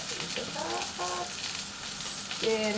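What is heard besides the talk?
steak sizzling while cooking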